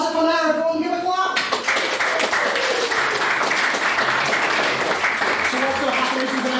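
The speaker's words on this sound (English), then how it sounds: "everyone give a clap." A debate audience breaks into loud, sustained clapping right after a voice stops speaking.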